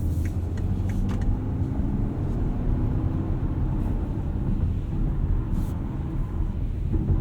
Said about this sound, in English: Trucks are just flying through here today.